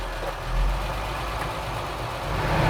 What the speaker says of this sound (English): So I'll put it in first gear and see how it runs.